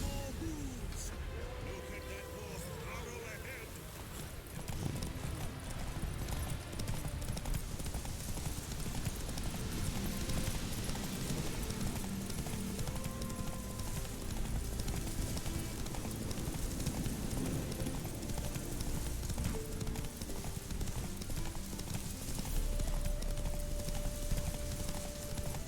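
The horse Roach gallops in a race in the video game The Witcher 3: Wild Hunt, with rapid, rhythmic hoofbeats clip-clopping steadily and close, alongside game music and faint voices.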